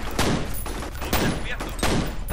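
Rapid bursts of gunfire ring out in the shooter game F.E.A.R., with several loud, close volleys in quick succession filling the whole clip.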